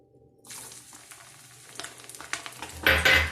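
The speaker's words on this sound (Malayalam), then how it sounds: "ഇനി വറുത്തെടുക്കേണ്ടത് കുറച്ച് നാളികേരം ഇങ്ങനെ പീസാക്കി എടുത്തത്, ചെറിയ കഷ്ണങ്ങളാക്കിയിട്ട് നുറുക്കിയെടുത്തത്" Small pieces of coconut drop into hot oil and fry with a quiet start that builds into a rising sizzle and crackle, loudest in a bright hissing burst at the end, close by and without talk.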